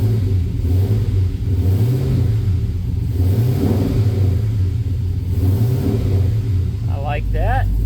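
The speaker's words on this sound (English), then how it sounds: "And again, this engine just got swapped." Freshly swapped, untuned engine in a Chevrolet C10 pickup truck idling with a loud, steady low rumble and a few slow swelling revs, close by, with a brief voice near the end.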